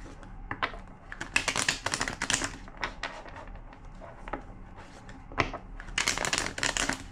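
Riffle shuffling of a deck of cards, several bursts of crisp rapid flutters separated by short pauses, close and fairly loud with no talk.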